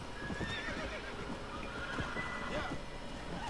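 A horse in the video game Red Dead Redemption whinnies while its hooves clip-clop in a quick rhythm nearby, with the neigh rising clearly above the steady footfalls.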